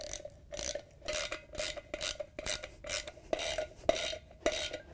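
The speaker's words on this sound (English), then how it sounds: "use a ratchet with 1/2-inch socket to tighten in the screws" A ratchet fitted with a 1/2-inch socket tightens retaining screws on a Whirlpool/KitchenAid/Maytag washer tub seal, giving a steady run of rapid rasping clicks in short repeated strokes, close and moderately loud.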